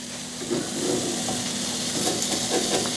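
A grilled cheese sandwich sizzles steadily in a hot pan, a close, even frying hiss with a few soft shuffles near the end and no voices.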